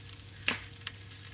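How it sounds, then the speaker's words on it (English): Food fries in a pan on a home stove with a steady sizzle, and two quick scraping clicks of a utensil as it is stirred, close and alone. "give that a bit of a stir."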